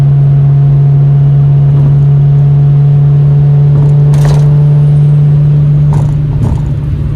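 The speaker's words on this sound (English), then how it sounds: "this car sounds pretty quiet for a car that's convertible" Interior drone of a BMW 135i convertible with an N54 engine and single-turbo setup while driving, a loud steady low hum with faint road noise and a few brief knocks, no talking.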